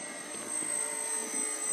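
RC model Canadair water-bomber plane flying over a reservoir near Nesebar, a faint steady high-pitched electric motor whine heard from a distance with no talk.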